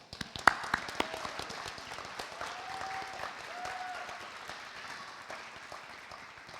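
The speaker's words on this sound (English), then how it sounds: "a round of applause for you" A crowd applauds at a high school graduation ceremony for a virtual academy, a sustained wash of clapping that starts with a few sharp claps, swells, then slowly tapers off.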